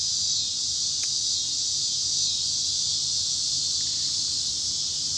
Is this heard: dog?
no